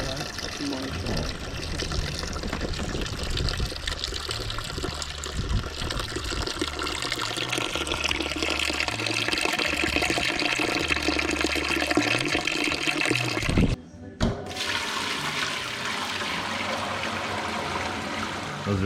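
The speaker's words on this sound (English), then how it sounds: "There's a bladder inside that inflates with water, pushes the apples out to the bladder." A hydraulic cider press runs steadily as water fills its internal bladder against the apples, giving a continuous watery rush and hiss with a brief break near the end, while people talk nearby.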